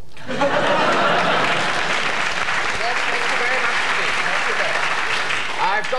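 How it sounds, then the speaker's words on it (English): Studio audience applause on a 1983 BBC election-special comedy show, a dense, loud, continuous roar of many hands clapping that holds steady throughout with voices mixed in. "Applause."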